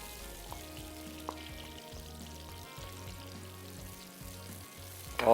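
Tomato puree meeting garlic and ginger frying in a karahi gives a steady, moderate sizzle with low bubbling, a brief pour-like swell near the end, and no talking.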